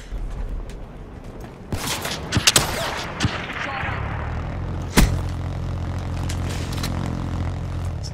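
Video game gunfire as players shoot at a Wraith vehicle. Sharp, scattered shots and a few quick bursts crack over a steady low engine drone, with a final loud report midway through.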